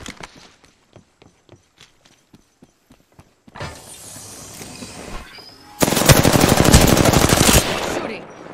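Apex Legends gunfire: a string of separate sharp shots spaced through the first few seconds, then a denser stretch of noise, ending in a loud, continuous rapid burst of automatic fire up close.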